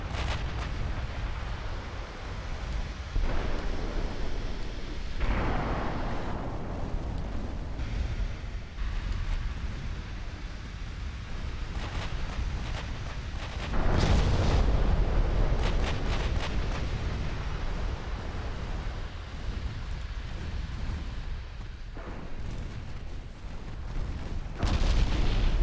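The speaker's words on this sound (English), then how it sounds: "Six-inch guns doing a marvellous job." Naval six-inch guns firing in a warship video game, a sequence of heavy booms and rumbling blasts at intervals over continuous battle noise, with a big burst midway.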